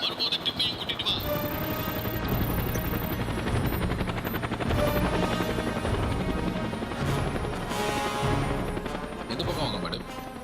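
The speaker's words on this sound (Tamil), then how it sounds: "லீனா, ஹெலிகாப்டர் வந்தாச்சா?" A helicopter's steady rotor and engine roar fills the scene loudly and continuously, with voices and music-like layers over it.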